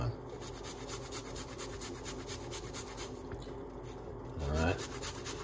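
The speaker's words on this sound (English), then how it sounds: "We're gonna grate a piece of ginger inside of it." Fresh ginger is rubbed across a kitchen grater in quick, steady rasping strokes. The scraping is faint and close, with a brief voice near the end.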